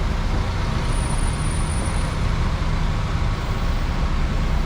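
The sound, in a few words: road traffic near the Split ferry port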